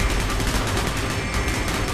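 Sustained rapid gunfire in the video game Call of Duty: Black Ops, dense overlapping automatic bursts and shots filling the whole stretch at a steady, loud level with no speech.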